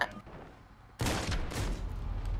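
Gunfire in the video game Modern Warfare: a sudden loud burst of shots erupts after a quiet second and keeps rattling densely as a sustained barrage until the end.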